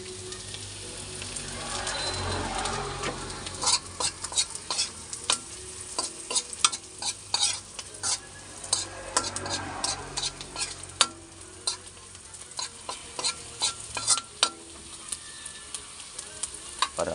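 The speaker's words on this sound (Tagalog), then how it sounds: "palabasin mo natin yung aroma ng sibuyas, bawang, luya" Onion, garlic and ginger sauté in a hot pan for a beef skin dish, giving a steady close sizzle with frequent clinks and scrapes of a spatula stirring throughout.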